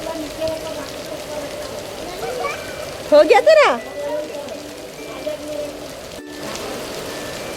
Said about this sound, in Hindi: बहुत बारिश आ रही है भाई।